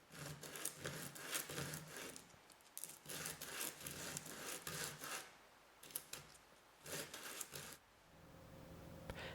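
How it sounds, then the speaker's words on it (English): Sandpaper of 80 grit rasps across one side of a rubber washer in short, repeated strokes, each a burst of scratchy friction separated by brief pauses, close and fairly quiet. "Then rough up one side of the rubber washer."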